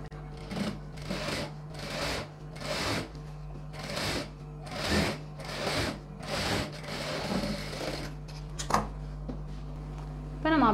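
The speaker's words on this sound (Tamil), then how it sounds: "இந்த இடத்துல நம்ம படிமான தையல் போட்டுக்கலாம்" Sewing machine stitching a silk pavadai dress, running in short repeated bursts with brief pauses, close and fairly loud, with some handling of fabric near the end.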